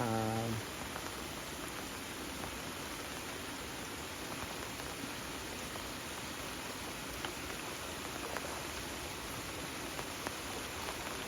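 Steady rain falls near a riverbank where people are out fishing, a continuous broadband hiss with scattered light patter that holds evenly throughout and carries no talk.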